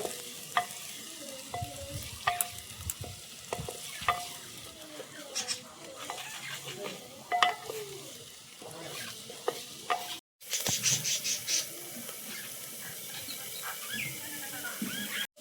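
Cabbage, carrot and beans are stirred in a pan with a spoon, giving scattered scraping clatters and soft sizzling, moderately close, with a brief break near the end before the sizzle resumes louder.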